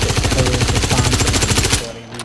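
Rapid automatic gunfire in the Star Citizen FPS game, a loud close burst of evenly spaced shots that cuts off abruptly near the end.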